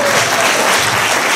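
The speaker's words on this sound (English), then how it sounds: "Give yourselves a big round of applause" Dense, steady applause from an evening show audience, loud and close, filling the whole moment without a break or any voice over it.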